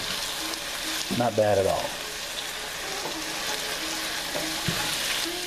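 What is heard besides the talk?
stirring and frying in hot pan for bhindi masala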